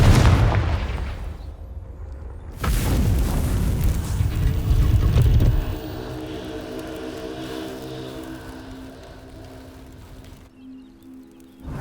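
Confringo fire spell exploding in Hogwarts Legacy: two loud booming blasts with deep rumble, the second longer, then a fading crackling roar and a faint tonal hum trailing off.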